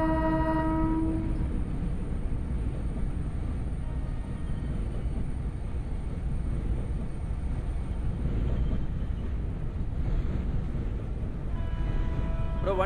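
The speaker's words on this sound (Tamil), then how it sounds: "அந்த சவுண்ட் கேக்குதுல ஒரு ட்ரெயின் வர மாதிரி" A Chennai Beach to Tambaram fast local train pulls into a platform in Train Simulator (Railworks 3). A dense, steady rumble of the moving train plays throughout, and a horn sounds at the start and again near the end.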